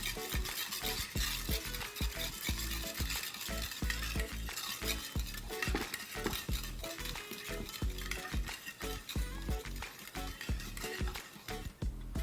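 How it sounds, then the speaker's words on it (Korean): Undissolved sugar is stirred in a pan for a sweet-and-sour fish sauce in a school-catering kitchen. A dense, loud, continuous gritty scraping and sizzling comes through with rapid rhythmic strokes, and no voices are heard. "이 소리는 설탕이 아직 안 녹았기 때문에 나는 소리예요. 그래서 이렇게 저으시면서 설탕을 녹여주세요."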